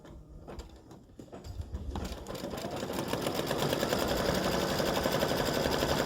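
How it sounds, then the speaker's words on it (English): An embroidery sewing machine stitching a satin stitch applique outline, starting quietly then building into a loud, continuous rapid buzz of needle strokes that runs alone. "it's going to go around and stitch a line inside and a line outside, and then stitch the satin stitch"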